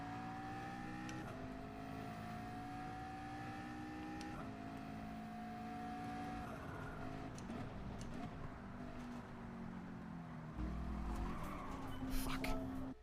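Car engine and tyre noise from Gran Turismo 7 racing on PS4, a steady engine drone with rising gear tones, then a louder rough slide and scrub near the end as the car loses grip.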